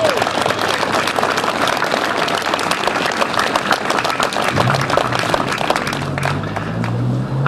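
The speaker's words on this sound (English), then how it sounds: "So a big clap for Brian and for Anne." Audience applause for honoured members of the Enfield local community, a steady dense wash of clapping sustained throughout, with a low voice or rumble surfacing near the end.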